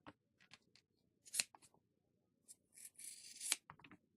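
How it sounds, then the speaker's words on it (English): Scissors cut out a paper stamp, giving quiet, close snips and a longer rasping run through the paper near the end, with short pauses between cuts. "first thing we're going to do is cut out one of the stamps"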